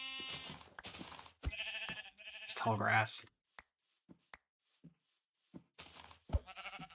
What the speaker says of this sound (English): With that brown sheep.